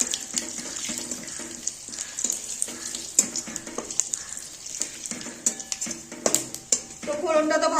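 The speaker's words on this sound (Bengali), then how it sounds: "ওর মধ্যে এবার ফোড়ন দিয়ে দিচ্ছি, 2টো শুকনো লঙ্কা আর একটু 5 ফোড়ন ফোড়ন দিয়ে দিলাম।" Two dried red chillies and panch phoron crackle in hot oil as tempering for a mixed-vegetable dish, giving scattered sharp pops and spits over a wet sizzle that grows busier toward the end.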